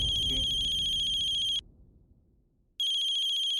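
A phone ringtone chimes in a steady, bright repeating burst, breaks off for about a second amid a faint low room rumble, then rings again, with no voices over it.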